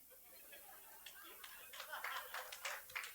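An audience claps at a Hindi-language talk, starting faintly and building into a light, scattered patter of hands at a distance, quiet and low in level, with murmuring under it.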